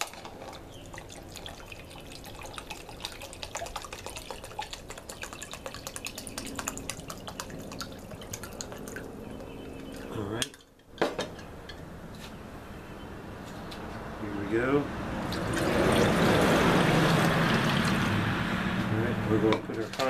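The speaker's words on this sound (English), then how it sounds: "We're going to measure out 2 cups of water." Water from a measuring cup pours into a Soviet VDV paratrooper canteen in a steady, close trickle that swells into a louder gushing stream, with faint dripping and handling noise before it.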